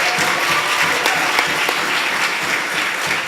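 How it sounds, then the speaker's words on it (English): Loud, sustained applause from a church audience at a Sunday service, a thick continuous roar of many hands clapping with occasional sharper individual claps standing out. "So let's give these guys a big round of applause."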